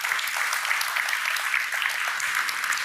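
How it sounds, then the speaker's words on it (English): A conference audience gives a round of applause for a speaker after a Kubernetes and Cilium network policy session, steady dense clapping at moderate level throughout. "Let's have one more round of applause for Philip."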